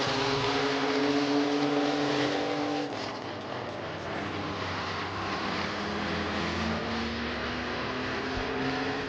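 Stock cars race around Midvale Speedway, a dense roar of engines surging and fading as cars pass, then settling into a slightly softer, distant drone of the pack.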